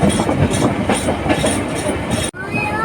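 The Drutojan Express rumbles along the rails near Jamuna East railway station with a steady rolling clatter, close and loud, cut briefly by a sharp drop before the noise resumes.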